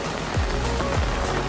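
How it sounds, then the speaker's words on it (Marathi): Heavy rain pounds a car during a Mumbai rainstorm, a dense, steady hiss with occasional low thuds, and no voices. "पाऊस तुम्ही बघू शकता कंटिन्यू आहे"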